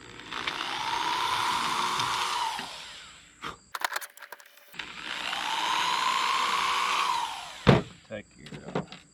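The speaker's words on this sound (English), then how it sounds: "take your 1/8 inch bit and drill through this" A power drill with a 1/8 inch bit whines in two sustained bursts drilling through a metal bushing on a Roadmaster Stowmaster 5000 towbar, separated by brief clicks and handling noises, close and fairly loud.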